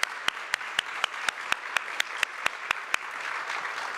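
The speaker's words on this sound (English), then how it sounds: "So let's give Stephen a round of applause." A crowd claps in applause, with one loud clap landing sharply and evenly about every quarter second over a steady patter of hands.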